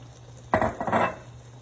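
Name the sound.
old-fashioned oats being added to the pot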